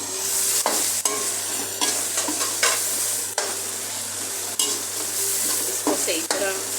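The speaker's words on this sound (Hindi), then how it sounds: "इसको सही तरह मसाले को पहले भूनना है।" Spices with tomato, green and dried chilli, salt, turmeric and coriander being fried and stirred in a pan: a continuous close sizzle broken by repeated scraping strokes of a spoon, with no talking.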